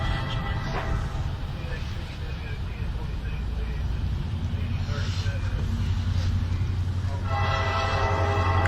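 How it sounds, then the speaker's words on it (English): A CSX freight train rumbles past close by, its horn blaring in loud bursts over the steady roar of rolling wagons, with someone talking over the sound. "We have another CSX train coming."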